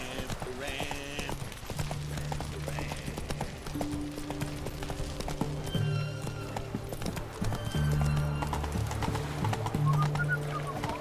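Hooves of the horse Roach clip-clop steadily at a gallop in The Witcher 3 video game, close and continuous, mixed with game music, a whinny and voices talking over it.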